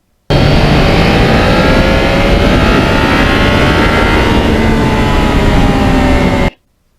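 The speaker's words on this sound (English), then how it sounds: "that quick shifter is just so much fun to go through the gears with" A 2020 Yamaha MT-09 motorcycle with a quick shifter pulls hard through the gears on salty roads, its engine note climbing steadily beneath a loud, constant roar of wind.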